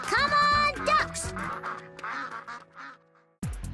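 Ducks quack loudly in a quick run of nasal calls, then trail off into softer, scattered quacks before a brief pause and a sudden final honk.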